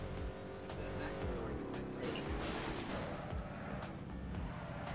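Racing cars in a video game, a busy engine roar with tire squeal and sharp intermittent thumps, fairly faint and continuous throughout.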